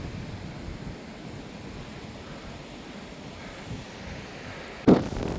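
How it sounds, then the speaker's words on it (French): Wind gusts over a mountain pass summit on the Tour du Mont Blanc, a steady, rough rumble buffeting the microphone without a break, with a brief sharper bump near the end. "je sais pas si on m'entend avec le vent"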